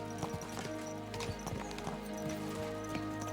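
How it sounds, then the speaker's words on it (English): Horses are spurred on in the video game Kingdom Come Deliverance 2, their hooves clip-clopping in a steady, quick rhythm. The sound is quiet and sits under a faint sustained musical background. "Let's really spur these horses on, eh?"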